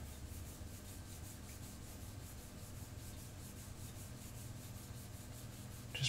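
Hand sanding of a knife blade forged from a farrier's rasp with 800 grit paper, a quiet, steady rhythmic rubbing of strokes repeating evenly back and forth, with no talking.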